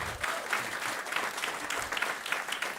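An audience at a climate action event on food waste breaks into dense, continuous clapping that stays close and full throughout.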